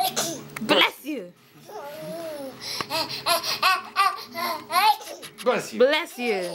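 A young child makes playful fake sneezes between babbling and giggles, close to the microphone, with bursts of laughter and chatter around the pretend sneezes.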